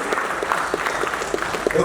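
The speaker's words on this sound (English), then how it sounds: "Please give a huge round of applause to Ravichandran sir." An audience applauds Ravichandran on stage, a steady wash of clapping running through the whole stretch at moderate level, with a few sharper claps standing out.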